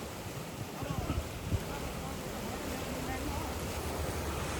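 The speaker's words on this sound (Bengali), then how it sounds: "কি পরিমাণে জলের স্রোত মানে এতটা স্পিডে আছে ভাই" Fast-flowing Teesta river current in Sikkim, a steady broadband rush of water and wind noise that stays loud and even, with a few low thumps near the start.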